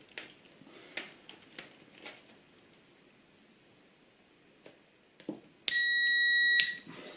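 A continuity tester beeps while a multimeter checks motorcycle switch wiring, giving one steady tone of about a second that rises abruptly out of faint clicks and handling noises and then cuts off.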